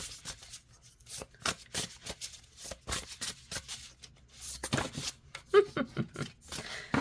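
Flexible cardstock tarot cards are shuffled in repeated quick riffling bursts, close and crisp, with brief pauses between runs of flapping card noise.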